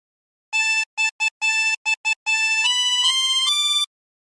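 A harmonica plays a phrase of Drunken Sailor without bends: a quick run of short clean notes, then a few longer held notes stepping higher, played alone and clear.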